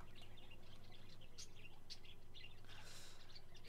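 Birds chirping in cages in a pet shop in the Exotica Petshop Simulator game, quiet scattered tweets and short calls over a faint steady background hum.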